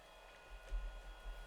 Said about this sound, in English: There's actually a fan here. that's keeping the electronics cool,